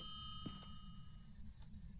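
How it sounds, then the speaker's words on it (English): A telephone rings once, a short bright metallic ding standing out over a steady low hum in a quiet indoor room. "the phone rang."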